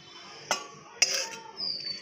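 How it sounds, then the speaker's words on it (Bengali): Dishes and pots clink and clatter at a kitchen sink, two sharp metallic knocks followed by a fainter scrape and ringing, close by against a quiet background. "এতগুলো বাসন সব মাজতে হবে"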